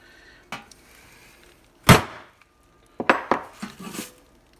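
A blacksmithing hammer strikes a steel touch mark stamp: one sharp metallic blow, then a series of quick clanging hits, close and loud, with no voices.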